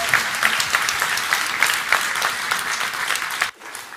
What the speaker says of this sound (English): You're clapping because I had Carolyn come up